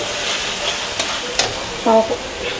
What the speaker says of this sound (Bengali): মশলাগুলো দিয়ে দিচ্ছি যেগুলো বেটেছি।